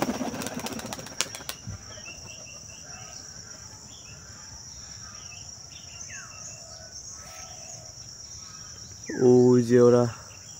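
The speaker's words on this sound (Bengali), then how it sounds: "আজকে আমরা এখান থেকেই কবুতর ছাড়ি" Giribaz pigeons are released and burst into flight with a loud flurry of clapping wings at the start. The flapping fades quickly into steady cricket chirring and faint distant bird calls.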